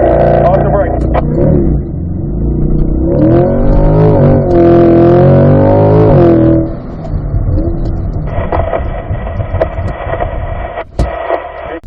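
A car engine at an autocross practice launch at Spring Mountain, revving hard at full throttle off the brake, loud and rising, with voices talking over parts of it.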